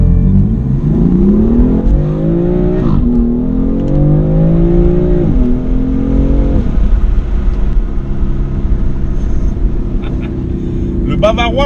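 A BMW M4 F82 with twin-turbo engine accelerates hard, revving up through several gear changes before settling to a steady drone, loud and close, with some talk over it.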